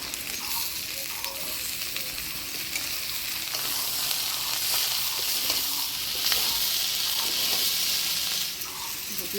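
Ridge gourd frying with dried shrimp, onion, chilli and garlic in a pan makes a loud, continuous sizzle, with occasional scraping stirs. It runs alone for several seconds.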